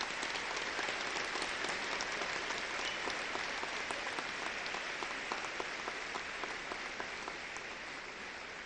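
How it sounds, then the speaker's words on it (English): A high school commencement crowd applauds graduating seniors of the class of 1988, a dense, continuous wash of clapping heard from a distance at an even level, fading slightly toward the end. "Let's give them a hand of applause."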